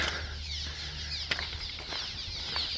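Birds flapping their wings beneath a road overpass over the Platte River, a steady fluttering rush with a few sharper wingbeats over constant traffic rumble.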